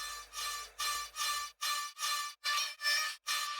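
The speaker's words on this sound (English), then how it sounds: "just a small LFO tool, just so that the vocal will sound very future bassy." Future bass vocal sample gated by Fruity Balance used as an LFO tool, pulsing in eight clipped bursts with sharp cutoffs between them, bright and alone.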